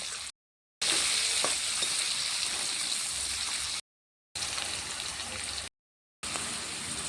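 Capsicum frying in a pan with clove, cardamom, cinnamon, cumin powder and salt, a continuous close hiss and sizzle with faint stirring, broken by a few abrupt silent gaps.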